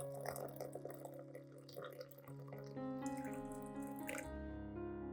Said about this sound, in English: add enough hot water to the bowl